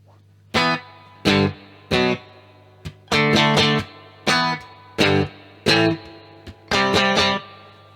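Distorted electric guitar chords strike in a rhythmic pattern, short punchy hits and quick doubled stabs separated by brief gaps, loud and up front.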